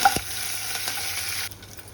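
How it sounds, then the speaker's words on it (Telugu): Curry leaves and green chillies dropped into hot oil with cumin seeds, giving a bright, close sizzle that starts sharply, holds steady and then eases slightly toward the end. "ఇవి వేగాక కరివేపాకు, పచ్చిమిరపకాయలు వేసుకోవాలండి"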